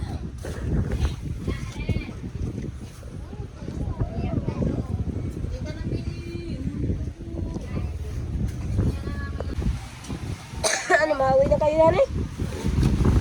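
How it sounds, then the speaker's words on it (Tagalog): Strong wind rumbles and buffets the microphone continuously while people talk over it, a few voices rising near the end. "lakas ng hangin oh"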